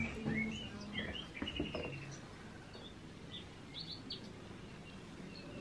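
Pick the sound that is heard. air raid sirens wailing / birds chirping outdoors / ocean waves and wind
birds chirping outdoors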